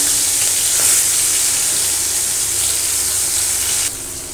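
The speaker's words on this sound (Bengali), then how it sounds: "প্রথমে আমি চাল কুমড়োতে দেওয়ার জন্য চিংড়িটাকে ভেজে নেব" Shrimp coated in salt and turmeric fry in hot oil with a loud, close, continuous hiss and sizzle that drops in level near the end, with no talking.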